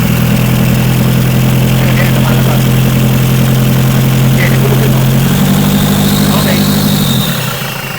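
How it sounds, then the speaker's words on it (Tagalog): Engine with a defective turbo spurting oil is revved, a loud, close, sustained low drone that climbs in pitch partway through and then drops off at the end. "habang nire-revolution natin, tinataasan natin yung RPM, yun lang is lumalabas talaga doon sa turbo"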